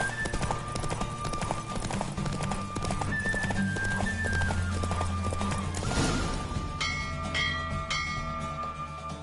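Horse hooves clatter in a steady galloping clip-clop during a race in The Witcher 3 on PS5, with game music and bell-like tones layered over it, continuous and fairly close throughout.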